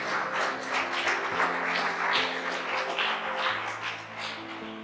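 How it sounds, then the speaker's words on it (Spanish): Congregation applauding during an evangelical church service, a dense sustained wash of clapping with a steady low hum of music or organ beneath it, no speech over it. "Dele fuerte el aplauso al Señor."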